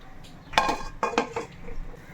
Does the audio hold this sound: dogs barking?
no